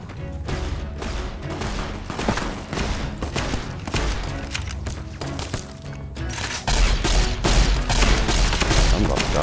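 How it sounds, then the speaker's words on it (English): Rapid laser rifle fire in a post-apocalyptic wasteland game, a dense, loud run of repeated shots that turns heavier near the end, mixed with game background noise. "Try the laser rifle. Oh, come on, I'm shooting you with a laser!"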